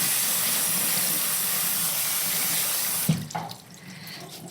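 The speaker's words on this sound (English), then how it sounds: "just rinse our red lentils. So I'm just going to go over to the sink, and we're going to wash off the excess starch" Red lentils rinsed under a running sink tap, a loud steady rush of water for about three seconds before it cuts off, leaving faint drips and handling noises, close with no talk.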